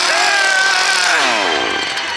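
A chainsaw roars loud and close in a Carowinds Halloween scare zone, one continuous rasping rev whose pitch sweeps downward before it slightly fades.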